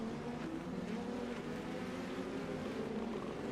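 An open-wheel race car in the iRacing sim, racing on the Charlotte Roval road course in an Indy NXT series event, drones with a steady high engine note that runs at constant loudness with no voices.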